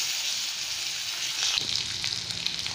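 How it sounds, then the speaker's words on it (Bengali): Potato pieces drop into hot oil tempered with panch phoron, the steady sizzle jumping into louder crackling bursts partway through, close and alone. "এতে এবার আলুগুলো দিয়ে দিচ্ছি।"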